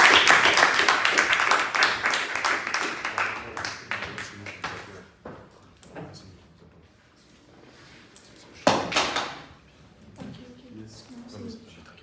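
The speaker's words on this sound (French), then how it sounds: "on peut applaudir" Audience at a student debate and pleading match applauds loudly, dense clapping that thins out over several seconds, followed by a few scattered claps and a short renewed burst amid quieter room sound.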